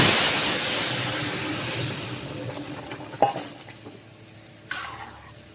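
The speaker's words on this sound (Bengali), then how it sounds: "দিয়ে এখন ডালটা ঢেলে দেবো।" Lentil dal pours into a hot tempering of dried red chillies and black mustard seeds for a tomato sour dal, making a loud hiss that gradually fades, broken by a couple of brief utensil knocks.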